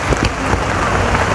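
Steady, dense rain pours down close by, a loud continuous hiss with scattered drop impacts and no voices.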